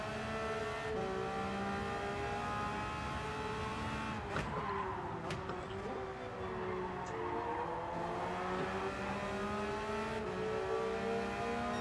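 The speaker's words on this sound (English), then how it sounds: "Is he in a BRZ by any chance, slipping and sliding around?" Subaru BRZ race car in Gran Turismo 7 sliding around a track, engine droning steadily with shifting revs and brief tire squeals as it slips, loud and continuous with no voices.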